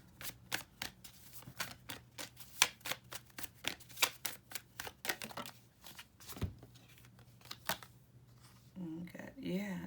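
Playing cards are handled and drawn in a quick run of crisp flicks and snaps, close and fairly quiet, then a short rustle at the end.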